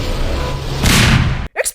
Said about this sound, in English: Suddenly, rocket launchers have been set up around the building, and if they go off and hit the wall...